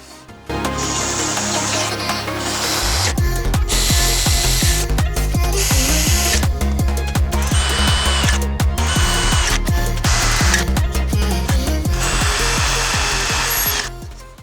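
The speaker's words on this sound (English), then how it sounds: "If you want to build a CNC yourself, just be prepared for drilling a lot of holes." A power drill bores holes into the aluminum rails of a homemade CNC mill, loud and close, with the motor whining through long sustained drilling passes broken by brief pauses and shifts in pitch.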